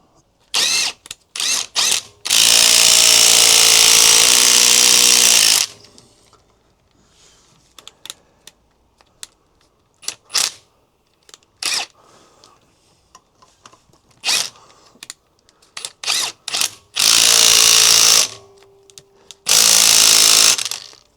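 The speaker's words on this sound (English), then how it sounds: "The battery's just died on my drill." A cordless drill whirs in several loud bursts of a few seconds each until its battery dies, separated by quiet stretches with clicks, taps and small handling noises, during work on a Keeway RKV125 motorcycle.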